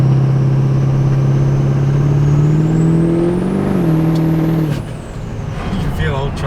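A Minimax truck fitted with an S400 turbo revs hard, a loud rising engine drone joined by a climbing turbo whine, then the revs drop away and the whine fades into a hiss.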